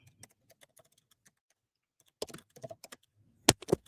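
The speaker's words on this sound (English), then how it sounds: "I'm typing something in the chat" Someone types on a computer keyboard, sparse faint taps at first, then a closer, louder flurry of keystrokes in short irregular bursts.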